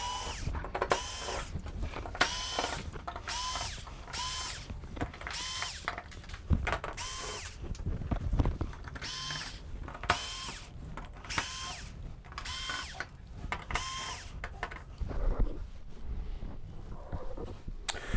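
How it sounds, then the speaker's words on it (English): Power drill backing screws out of the rear panel of a Sony XBR-75X900F television, in repeated short whirring bursts separated by pauses, close and fairly loud. "let's start out by getting all of these screws from around the sides as well as along the bottom here out of the television"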